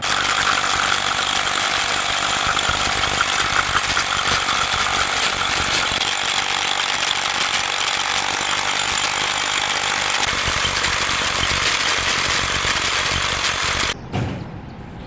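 A drill with a 2-inch bit opens 1.5-inch holes in metal in a fabrication shop, a loud, continuous grinding and chattering rattle up close that stops abruptly near the end.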